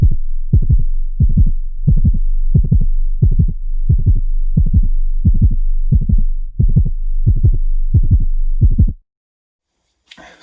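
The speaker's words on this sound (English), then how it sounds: "here's the kind of heartbeat sound thing I put in for the intro" Synthesized heartbeat-like pulse made on a synth for a beat's intro, a steady loop of deep, punchy double-thump beats repeating evenly for about nine seconds before cutting out.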